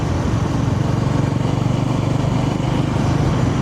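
A 2025 Honda GB350S single-cylinder motorcycle thumps along while being ridden, its engine and exhaust giving a loud, steady, pulsing drone with a fast even beat throughout.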